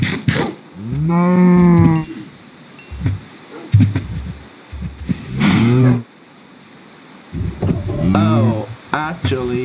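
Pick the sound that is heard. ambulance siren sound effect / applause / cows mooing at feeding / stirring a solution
cows mooing at feeding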